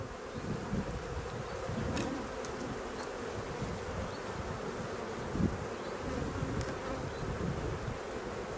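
Honey bees buzz steadily around an open beehive during a check of the honey supers, a dense close swarm hum holding even throughout with no voices.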